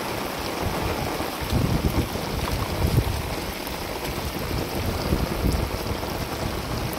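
Rainwater pouring into a borewell recharge chamber on a farm in Gujarat, a dense, continuous rushing and splashing of water, close and fairly loud, with no voices.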